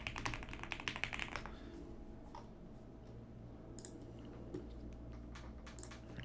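Quick typing on a computer keyboard, with a dense patter of clicks at the start, then sparser individual keystrokes at a close but faint level.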